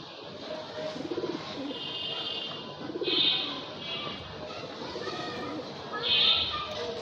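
A restless male pigeon held in the hand gives several soft, rolling coos in spaced bursts, close up over a noisy background.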